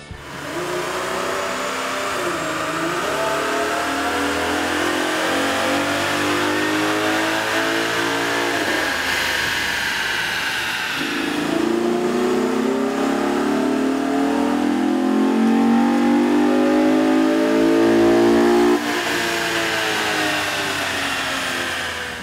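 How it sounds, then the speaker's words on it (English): A 2012-2015 Chevrolet Camaro engine with a K&N cold air intake revs hard and steadily on a dyno, its pitch climbing through long pulls, dropping, then rising again in a sustained loud roar. "we ran the vehicle on the dyno to test sound comparison versus the stock intake"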